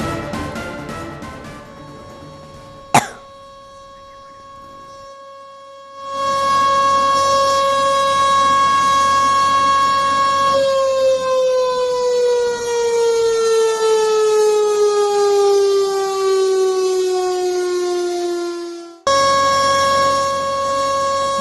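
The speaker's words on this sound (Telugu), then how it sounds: "దేశంలో యాభై నాలుగేళ్ల తరువాత యుద్ధ సైరన్ మోగుతోన్న సమయం ఇది" A civil defense war siren sounds during a mock drill, a loud sustained wail that holds steady then slowly falls in pitch before restarting, with a brief sharp knock and a quiet gap near the start.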